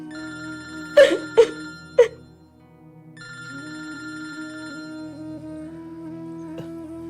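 A telephone rings unanswered indoors, giving three sharp, close bell bursts about half a second apart, followed by a steady, quieter electronic ringing tone that carries on without a pickup.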